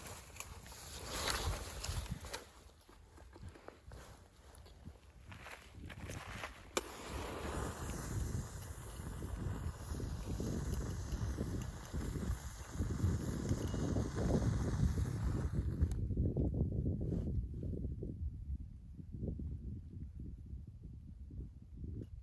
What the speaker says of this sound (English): Maybe it's too windy